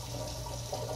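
Tap water runs steadily into a kitchen sink during dishwashing, a continuous close splashing rush that lasts the whole moment with no talk.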